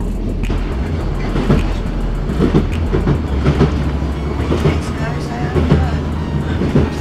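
Passenger train on the branch line to Heysham port, a steady rumble with rhythmic clatter throughout, heard from inside alongside people talking in the carriage.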